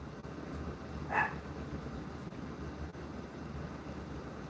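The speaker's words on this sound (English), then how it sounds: "Maya knows that I am videoing now, so she's gone into a room to bark." A single muffled bark from a Chihuahua in another room, brief and distant over a steady background hush.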